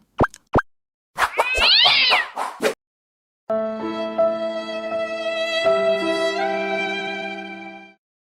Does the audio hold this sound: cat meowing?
yes